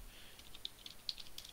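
A few quick, light keystrokes on a computer keyboard as a password is entered, irregular soft clicks close by with no talking.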